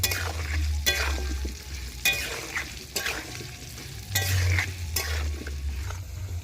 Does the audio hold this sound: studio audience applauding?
no